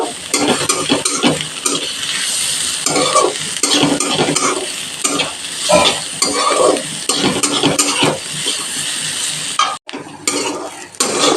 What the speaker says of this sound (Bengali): আদা রসুন লঙ্কা হালকা ভাজা হয়ে গেছে